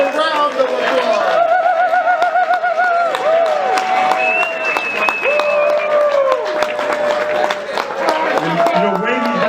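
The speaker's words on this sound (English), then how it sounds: "A round of applause, a round of applause." Audience applause at a storytelling event, dense clapping and crowd noise running throughout beneath a voice talking over it.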